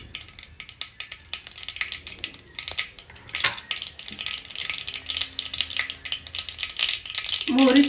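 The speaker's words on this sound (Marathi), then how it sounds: "मोहरी चांगली तडतडू द्यायची आहे।" Mustard seeds crackling and popping in hot oil in a kadai, with scattered sharp crackles and a spoon stirring and clinking against the pan, close and fairly quiet.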